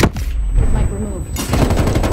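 Bursts of gunfire from a gun in an online shooter video game, loud and close, with rapid shots at the start and again near the end and a brief softer gap between them.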